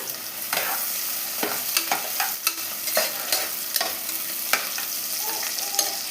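Onions sautéing in a pan with a constant sizzle and frequent scraping, clacking stirs at an irregular rhythm, close by, with no talk.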